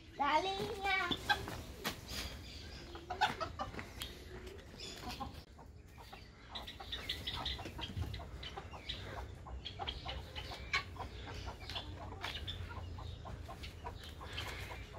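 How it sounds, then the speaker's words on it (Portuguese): Chickens cluck and squawk close by in a busy farmyard, with scattered voices talking quietly in the background. "Joga lá pras galinhas,"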